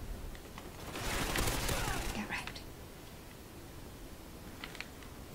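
A sentry gun in Call of Duty Ghosts fires a short, fairly faint burst of rapid shots over a noisy background, followed by a few scattered clicks.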